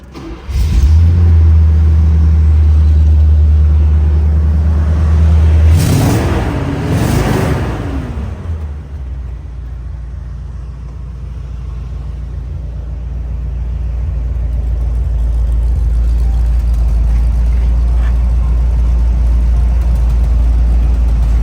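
A 1974 Chevrolet Corvette Stingray engine cranks and fires up, revs briefly, then settles into a steady, loud low idle that continues to the end.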